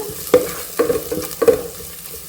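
Crushed ginger and garlic fry in oil for a Mangalore-style chicken curry, a close, steady sizzle broken by about six brisk spatula scrapes against the pan at an uneven rhythm.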